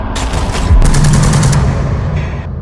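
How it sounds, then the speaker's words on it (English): An AK-47 fired indoors as a designed gunshot effect, a rapid automatic burst of loud close shots with a roomy reverberant tail that trails off after the firing stops. "But I went for the AK-47 indoors. That's just firing that preset."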